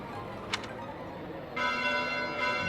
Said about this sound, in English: Bells? This late at night?